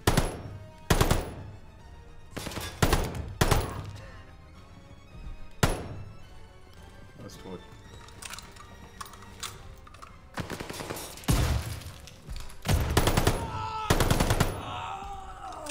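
Gameplay from Call of Duty: Vanguard with machine gun fire: sharp, loud bursts of automatic shots in irregular clusters, separated by quieter stretches of game ambience.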